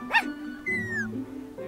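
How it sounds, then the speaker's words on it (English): Puppies barking in the video game Minecraft Story Mode: one short, high yip up close, followed by a drawn-out whine and lower whimpering sounds, with no talking. "Got some fine puppies here."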